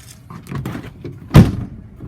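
A passenger-side door on a 2005 Ford F-350 XL crew cab utility truck, dented but working, swings shut with one solid thunk after some faint shuffling, close and fairly loud.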